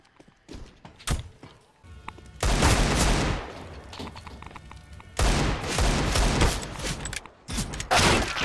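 Gunfire in the Counter-Strike video game: loud close bursts of automatic fire and single shots in rapid volleys with thuds between, no talk.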